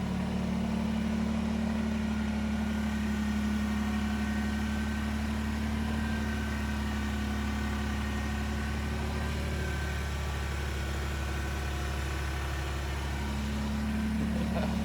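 Kubota BX2380 compact tractor's engine runs steadily at a constant idle-like drone for the whole stretch, fairly loud and close, with no talk over it.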